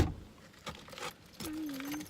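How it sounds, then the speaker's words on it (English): Brief metallic jingle of keys near the start, followed by a soft clatter and a steady tonal hum underneath. "there goes my keys"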